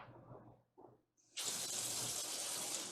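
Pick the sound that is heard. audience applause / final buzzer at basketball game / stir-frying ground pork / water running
water running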